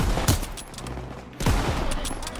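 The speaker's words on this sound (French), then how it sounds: "Oh, fusil de précision, Daniel." Sniper rifle shots in the World War II shooter game Call of Duty WWII: two sharp, loud gunshot cracks about a second apart, each with a short echoing tail.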